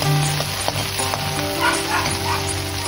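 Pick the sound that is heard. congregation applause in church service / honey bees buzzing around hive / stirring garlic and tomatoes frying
stirring garlic and tomatoes frying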